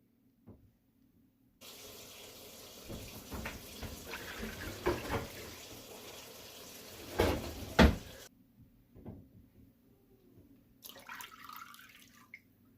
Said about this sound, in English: we're going to do 6 cups of cold water